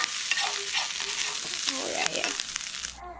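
Chopped vegetables stir-fried with Worcestershire sauce sizzle loudly in a hot pan, with scraping stirs and clatter throughout before the sound cuts off abruptly.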